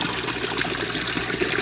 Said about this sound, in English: The tank is draining really fast